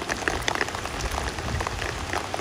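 Heavy downpour pours down in a dense, steady hiss, close and loud, with drops spattering on the ground and no voices.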